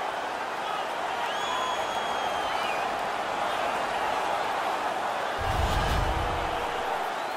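Home hockey crowd in a playoff arena roaring steadily after a fight on the ice, a dense wash of cheering and shouting with a deeper surge of noise near the end.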